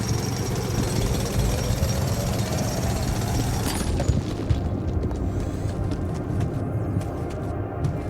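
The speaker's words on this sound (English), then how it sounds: "Drill charge, destroying a rock pile." In the sci-fi game The Alters, a drill charge blasts through a rock pile with a loud continuous grinding roar that cuts off abruptly partway through, leaving a quieter rumble and a few scattered knocks.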